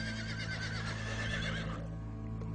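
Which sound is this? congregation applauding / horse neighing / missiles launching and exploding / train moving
horse neighing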